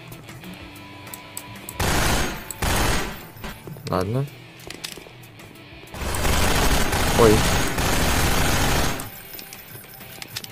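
Loud bursts of gunfire from the video game Hunt Down The Freeman come in two long volleys separated by a quieter stretch, with someone speaking briefly between them.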